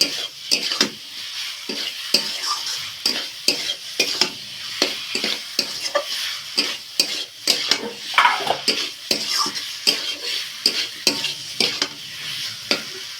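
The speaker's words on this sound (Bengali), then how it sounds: "পটলটা দিয়ে 2 মিনিট ভালো করে কষিয়ে নিয়ে জল দিয়ে দেব।" Fried pointed gourd being stirred and sautéed in a cooked-down spice paste, with a steady run of close, rhythmic spoon scrapes against the pan over a soft sizzle and no talking.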